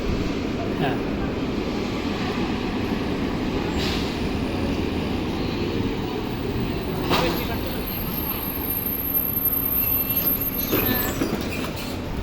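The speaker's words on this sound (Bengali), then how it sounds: "পিছনে আমার হচ্ছে ট্রাম আসতেছে।" A tram on a city street comes up from behind, its steady low rumble of rail traffic mixed with road noise throughout, with a voice speaking briefly over it.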